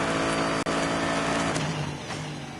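Onboard a Bentley GT race car at Monza, the engine roars loud and continuous as it runs through Curva Grande toward the second chicane, with a brief cut in sound early on and no talk.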